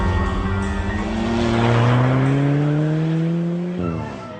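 An Alfa Romeo 4C sports car with a carbon fibre body drives hard, its engine note rising steadily in a loud, close rasp before dropping sharply at a gear change, with no talk.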